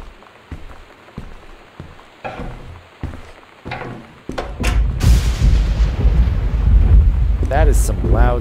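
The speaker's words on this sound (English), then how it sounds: "That is some loud thunder." Loud thunder in the video game Gone Home, beginning as a series of sharp cracks and building into a heavy, sustained rumbling roll over steady rain, with a voice briefly audible.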